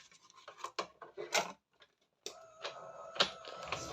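A die-cutting machine presses paper for card making, giving close rasping, rolling friction with a few clicks, a brief pause, then a second grinding pass, moderately quiet and without speech.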